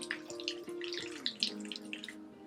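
Tap water runs into a sink for a nighttime face wash, a steady close splash with small bursts and drips, moderately quiet and without talk.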